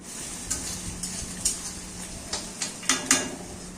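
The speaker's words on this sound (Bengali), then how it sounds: "এবার ফোড়নের সঙ্গে হালকা নেড়ে চেড়ে একটু হালকা লালচে করে ভেজে নেব" Chopped onions frying with tempering spices for a mutton curry give a continuous sizzle, with a series of sharp, regular spatula scrapes and clinks against the pan as they are stirred, close and fairly loud.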